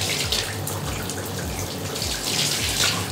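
Water runs steadily from a tap, a close, continuous splashing hiss with no talk over it.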